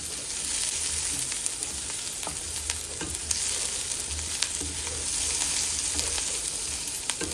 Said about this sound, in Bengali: পেঁয়াজটা ভাজা ভাজা হলে তারপরে চিংড়ি মাছগুলো দিয়ে দেবো।